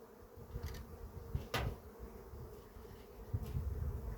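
Honeybees buzz around beehives during a varroa mite treatment with formic acid, a faint, low, steady drone with a few brief louder passes of nearby bees.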